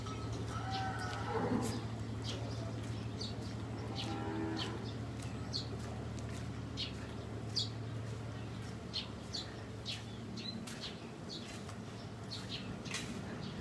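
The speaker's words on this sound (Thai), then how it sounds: "ฟาร์มวัวฟาร์มวัว" On a large cattle farm, cows moo a few times at a moderate distance over a steady low hum, while birds chirp throughout.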